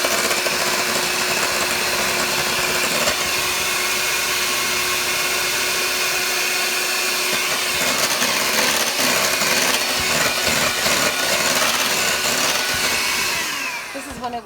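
Egg whites being beaten with sugar for an angel food cake, heard as a loud, steady, close whirring drone that runs unbroken and then fades out at the end, with no talking.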